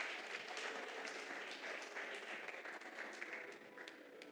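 A church congregation claps in a soft, distant and fairly even round of applause that carries on throughout with no clear voices.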